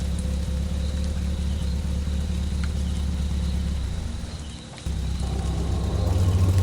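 A motorcycle engine drones low and steady on a dark night road, briefly dipping and cutting out before the rumble resumes slightly louder, with no voices.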